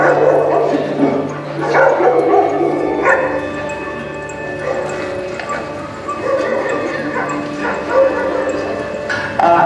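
Stray dogs at a shelter in Iraq bark, yip and whimper in overlapping bursts, loud and close, with a steady chorus of several dogs throughout the clip.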